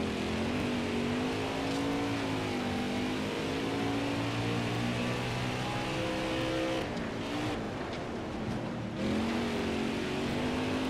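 Race cars in NASCAR Heat 5 roaring around the track, a steady loud engine drone with rising and falling pitch as cars pass close by, continuous throughout with brief dips in the engine note.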